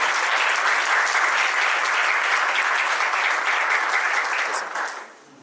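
Guests at a civil wedding ceremony applaud heartily in a dense, sustained burst of clapping that fades quickly near the end.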